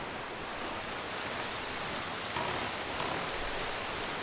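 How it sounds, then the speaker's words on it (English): Steady rain falls in The Legend of Zelda: The Wind Waker, a dense, even hiss of downpour that holds throughout with no voices over it. "Now it's raining."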